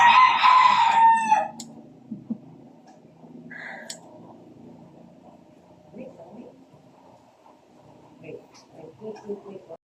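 A rooster crows loudly at the start, followed by quieter clucking and scratching sounds from nearby poultry, with some talking in the background.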